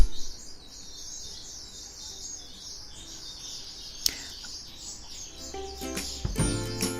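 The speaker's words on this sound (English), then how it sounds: "those birds are going crazy out there" Birds chirp and twitter outdoors in a steady high, busy chorus, faint and distant, with a few sharper knocks and rustles near the end.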